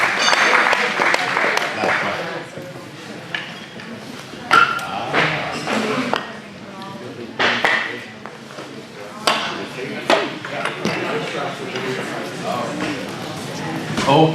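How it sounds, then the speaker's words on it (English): Applause and cheering fill an arena at a women's weightlifting competition after a lifter's clean and jerk attempt, with irregular thuds and people talking mixed into the steady clapping. "Give her a round of applause"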